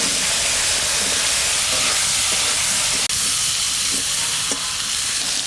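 Eggplant pieces frying in hot oil with salt and turmeric in a wok, a steady, dense sizzle that stays loud and even throughout, with a single brief click partway through.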